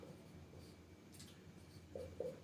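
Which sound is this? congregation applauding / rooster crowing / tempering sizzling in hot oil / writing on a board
writing on a board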